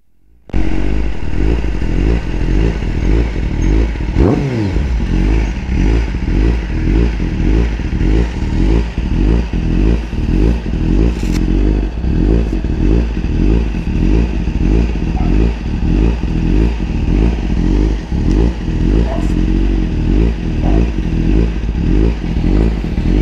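A Honda CBR 1000 RR-R sportbike engine roars loud and close as the rider accelerates through the gears on a highway trip from São Paulo to Campo Grande, with a shift early on and constant wind rush.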